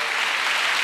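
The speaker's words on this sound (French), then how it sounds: "Let's clap for Jesus Christ." A church congregation claps together during a bilingual worship service, a brief, dense and even burst of clapping with no voices.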